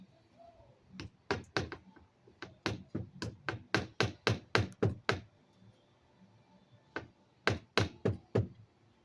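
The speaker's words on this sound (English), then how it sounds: "We gotta hammer that nail in." Small hammer driving a nail into wood at a barbecue prep area: a quick run of about a dozen sharp, close knocks, a brief pause, then four more strikes.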